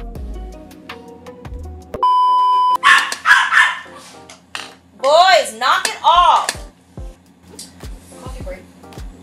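A household dog barks loudly at close range in a burst of sharp, rising yelps and woofs right after a short electronic chime-like tone, then quieter yips follow.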